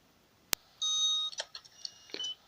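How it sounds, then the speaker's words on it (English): Nurse's station building in The Simpsons: Tapped Out mobile game gives a sharp click followed by a series of electronic beeps, a sustained tone then several short chirps, clean and close. "So it makes a beeping noise."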